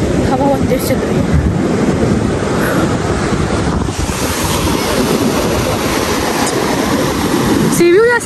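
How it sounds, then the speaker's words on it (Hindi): Strong wind buffets the microphone while sea surf roars steadily on Sonmiani Beach in Balochistan, a loud, continuous rush with a faint voice briefly heard near the end. "हवा बहुत तेज़ चल रही है"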